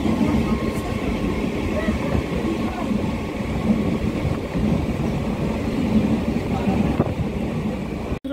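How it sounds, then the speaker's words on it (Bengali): A passenger train rumbles along with a continuous low, heavy roar and rattle, heard from on board at steady loudness, with low voices mixed in. "এখন ট্রেন থেকে নেমে পড়েছি"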